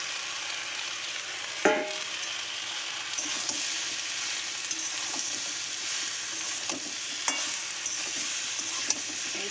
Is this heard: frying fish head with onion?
yes